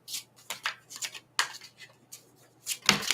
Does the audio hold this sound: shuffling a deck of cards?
yes